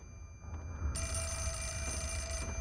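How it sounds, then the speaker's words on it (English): Telephone ringing in the horror video game Fatal Frame: Mask of the Lunar Eclipse, a steady electronic bell tone that starts about a second in and rings continuously over a low hum, with no speech. "Oh, phone call."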